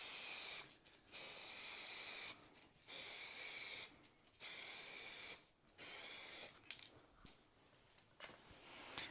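Aerosol spray paint from a shaken can recoating a headlight, applied a little thicker: five long bursts of steady hiss separated by short pauses, followed by quieter sputtering sprays near the end.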